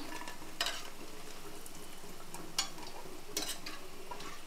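Egg and raw prawn fritters fry in hot oil, a soft continuous bubbling sizzle with three brief spatula scrapes against the pan, quiet and without talk.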